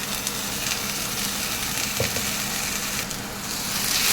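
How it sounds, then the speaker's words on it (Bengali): Spice paste with cumin sizzling in hot oil in a pan for a Bengali fish curry, a steady close frying hiss with a faint stir around the two-second mark. "ভালো করে মশলাটাকে ভেজে নেব, কষিয়ে নেব।"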